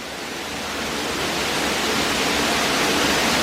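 A loud, steady roar of a waterfall crashing down nearby in the Palm Valley area of Singapore Botanic Gardens, a constant broadband wash with no pauses.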